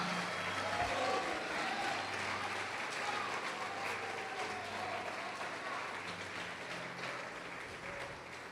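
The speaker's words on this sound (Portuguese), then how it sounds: "Pode aplaudir e glorificar o Senhor" A church congregation applauds in praise, a continuous wash of clapping at moderate distance with a low hum and faint voices underneath.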